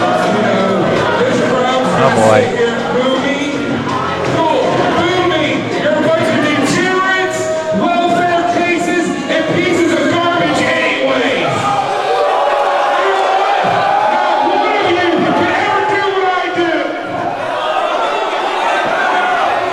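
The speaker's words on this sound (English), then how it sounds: "Home of one of the most ruckus wrestling crowds in Central Illinois" A rowdy wrestling crowd roars, chatters and shouts throughout a pro wrestling show at Lincoln's Challenge in Rantoul, Central Illinois. The loud, continuous crowd noise sits under a commentator's voice.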